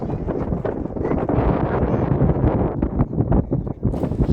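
Cool wind sweeps across the hilltop at Illikkal Kallu, a continuous loud buffeting rumble against the microphone with no speech.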